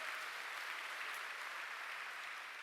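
A church congregation claps in praise of God during a sermon. The applause is steady, dense and fairly faint, a short sustained patter with no voices.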